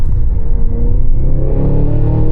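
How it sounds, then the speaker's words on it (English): A Cadillac Escalade V's all-wheel-drive, 682-horsepower V engine pulls hard under acceleration, a loud, deep, rising rumble heard from inside the cabin for a couple of seconds. "You're gonna be accelerating and slowing down and accelerating so often just to hear that soundtrack"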